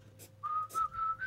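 A person whistles a short tune of a few sustained, steady notes, clear and close, with soft breathy onsets between phrases and no talking.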